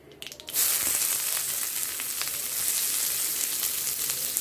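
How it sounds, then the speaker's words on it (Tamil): Onion frying in oil in a pan after mustard seeds and urad dal were tempered, a steady close sizzle that starts loud after a few quick crackles and holds evenly with no talk. "சேர்க்குறேன் ஒரு பெரிய வெங்காயம் வெட்டி வச்சு சேர்த்துருக்கேன் வெங்காயம் கொஞ்சம் வதங்கட்டும்"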